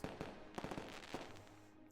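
Fireworks burst repeatedly at a festival as it draws to a close, a quick string of sharp crackling pops and bangs at moderate distance, with no talk over them.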